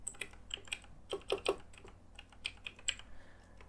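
An Aadhaar number is typed on a computer keyboard: a quick, uneven run of crisp key clicks, close and moderately quiet, with short pauses between bursts.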